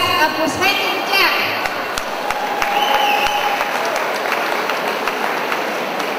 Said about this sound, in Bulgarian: Аплодисменти и за нашите учители, които са ни учили преди